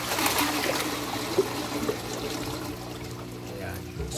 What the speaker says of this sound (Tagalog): So papasok na uli yung tubig niya dito.